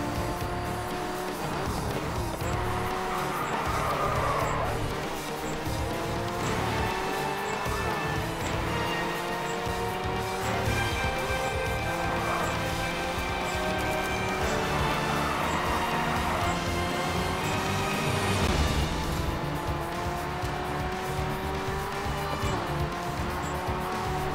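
A race car driving fast in GRID 2: a high engine whine rises and falls through repeated gear shifts, with tire noise and a steady roar throughout, loud and close.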